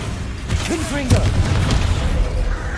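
Confringo fire spell in Hogwarts Legacy on PC, a deep booming blast with crackling bursts that rises midway and holds loud over the game's background, with a voice briefly sounding alongside.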